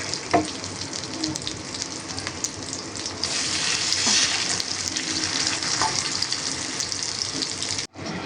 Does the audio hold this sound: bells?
no